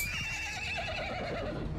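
A horse whinnies loudly and close in the Mount & Blade II: Bannerlord video game, a long wavering neigh lasting nearly two seconds that fades toward its end.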